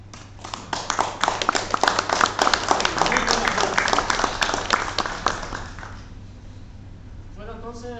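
Audience at a board of directors meeting gives a warm, loud round of applause for its president Alfredo Piso, dense clapping for about five seconds before tapering off, then a voice briefly speaks.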